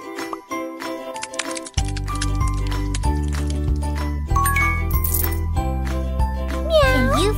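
A cartoon cat meows while being fed canned food in a children's pet-care game: a short, rising and falling meow near the end, over bright looping music with tinkling jingles.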